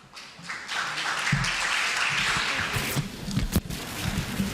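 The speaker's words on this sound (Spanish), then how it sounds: "Recibámoslos por favor con un fuerte aplauso" Dense, steady applause from a conference audience welcoming panel speakers at a product safety congress fills the whole stretch, loud and continuous with no voices on top.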